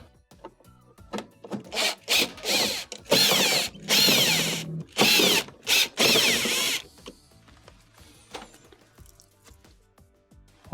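A power screwdriver whirs in several short bursts, driving Phillips screws out of the top of a clothes dryer's panel, with ratcheting mechanical rasps close by and quiet handling pauses between.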